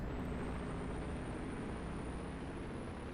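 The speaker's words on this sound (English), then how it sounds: "There's the classic Detroit scream." A Detroit diesel truck engine in American Truck Simulator, hauling a tall trailer, gives a steady, dense roar with a thin high whine rising above it. Nobody speaks.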